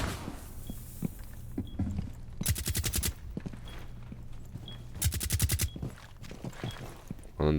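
Gunfire in Rainbow Six Siege, fired at an enemy through a wall: two loud bursts of rapid automatic shots, each about half a second long, with quieter in-game footsteps and thuds around them.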